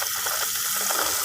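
Water pours and gushes steadily onto a potted grape plant, a continuous bright splashing flow with no pauses.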